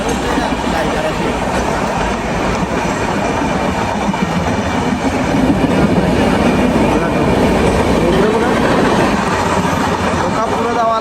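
A train runs on rails with a loud, steady rumble and rhythmic clatter throughout, heard close from on or beside the carriages, with voices talking faintly underneath.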